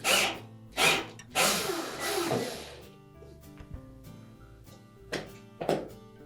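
A screw is backed out of the suspension spring retainer on a Whirlpool washer, heard as a few loud, separate bursts of power-tool whirring and clunks with quieter scraping between them, set against a steady low hum.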